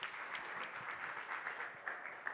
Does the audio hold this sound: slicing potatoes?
no